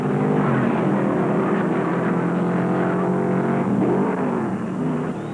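Late model sportsman race cars roaring around the Alabama International Motor Speedway at high speed, a loud continuous engine drone with rising and falling pitch as cars pass close by.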